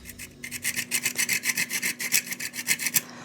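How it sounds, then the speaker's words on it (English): Nutmeg is grated by hand over a muffin batter, giving a steady run of close, rhythmic rasping strokes, about a dozen quick scrapes in a row with no talking. "I want to grate some nutmeg in here."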